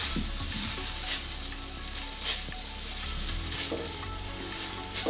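Soy sauce chow mein noodles stir-frying in a hot pan give a constant loud sizzle close by, with periodic scraping and tossing bursts as they are kept moving, and no talking.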